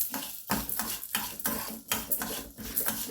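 Chana and urad dal roasting in a pan are scraped and stirred by a spatula, with steady gritty rattling and short scraping strokes repeating in a roughly regular rhythm, close and clear, with no talk.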